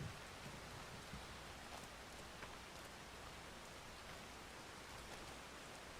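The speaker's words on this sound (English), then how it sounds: "it is like raining like it does here in Washington on this island" Steady, even rainfall hisses across an island in a video game, a constant soft wash of drops with no voices over it.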